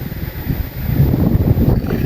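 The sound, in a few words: strong wind blowing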